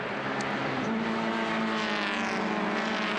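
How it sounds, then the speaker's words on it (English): Flat four-cylinder Toyota 86 sports coupes race past in a championship round, a loud sustained engine roar with a steady high-revving note that shifts pitch as the cars sweep by, no voices. "Magic sounding, flat 4-cylinder 86 Sports Coupe."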